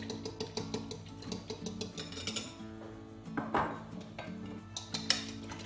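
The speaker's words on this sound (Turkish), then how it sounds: "Güzelce çırpalım yumurta sarısı ile limonumuzu." Egg yolk and lemon juice whisked in a bowl: rapid metal clinks and scrapes in an uneven rhythm, close and fairly quiet, with no voices.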